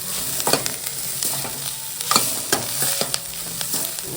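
Boiled vegetable being stir-fried with onion and fresh grated coconut in a pan, a steady close sizzle broken by repeated scraping strokes of the spatula, with no talk.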